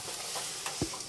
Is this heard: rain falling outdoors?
no